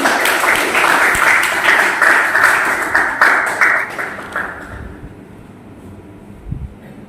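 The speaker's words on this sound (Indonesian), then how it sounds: "tepuk tangan untuk kalian semua" Applause from a teacher-training class (PPG professional teacher education), with dense clapping that stays steady for several seconds and then fades into quiet room noise.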